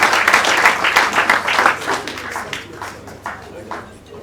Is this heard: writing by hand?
no